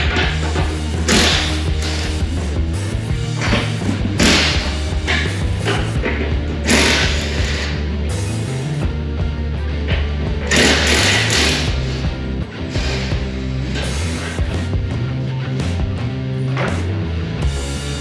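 An impact wrench removes the trailer hitch nuts on a 2020 Cadillac XT6, a loud, continuous mechanical hammering rattle close by with uneven bursts that runs without a break.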